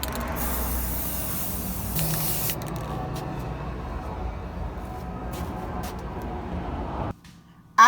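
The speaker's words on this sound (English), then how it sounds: "while I'm spray painting the chairs, I'm also spray painting these frames" Spray paint hissing from an aerosol can onto metal picture frames in steady continuous bursts close to the microphone, ending abruptly in near silence before a brief final knock.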